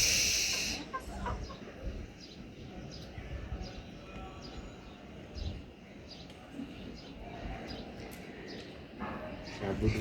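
Chickens raised at home cluck and murmur softly in the background, with a person talking nearby over faint hiss.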